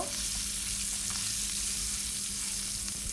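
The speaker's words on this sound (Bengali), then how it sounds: "উল্টিয়ে অপর সাইডটাও ভালো করে লাল লাল করে ভেজে নিতে হবে মাছগুলো" Glass cup fish (small fish) sizzling steadily as they fry in hot oil, a dense continuous crackle with no talk, close and fairly loud throughout.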